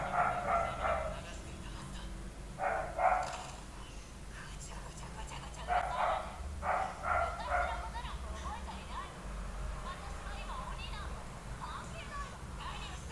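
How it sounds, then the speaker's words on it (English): A dog barks in bursts somewhere nearby while someone whispers or talks quietly over the noise, the barking rising in loud clusters and fading in between. "the dog is really barking hard"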